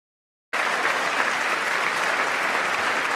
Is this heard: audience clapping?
yes